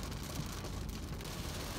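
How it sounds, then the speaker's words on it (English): Steady rain drums on a moving car on an open road, a dense, even wash of patter with a low road rumble beneath it and no one speaking. "more rain."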